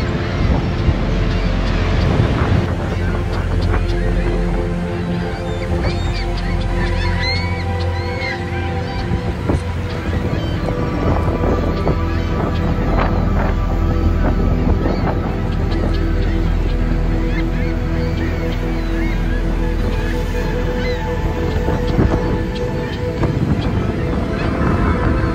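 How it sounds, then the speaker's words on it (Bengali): Sea surf roaring continuously at Kiama Blowhole on the Australian coast, a broad, steady wash of waves, loud and close, with wind buffeting the microphone throughout. "সমুদ্রের গর্জন আসলেই সুন্দর।"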